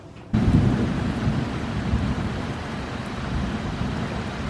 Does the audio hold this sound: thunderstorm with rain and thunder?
yes